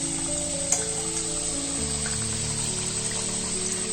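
Tal ghagra, sweet palm fritters, fry in hot oil with a soft, continuous sizzle that runs beneath steady background music.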